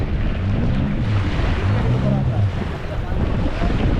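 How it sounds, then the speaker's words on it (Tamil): Strong wind roars continuously over rushing sea waves during rain, with a voice faintly audible underneath. "செமையான மழையும் காற்றும் அடிச்சுட்டு இருக்கு"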